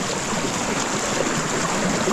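Strong, steady rush of water flowing through an irrigation stream that feeds rice paddies, a dense broadband roar close by and unbroken for the whole stretch.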